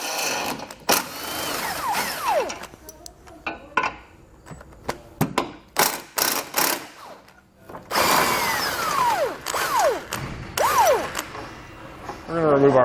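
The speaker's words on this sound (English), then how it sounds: "We're going to use a 16mm socket to remove them." Bursts of an impact wrench or power drill with a 16mm socket removing tow hook bolts on a 2020 Jeep, short whirring runs separated by pauses, with someone talking between and over them.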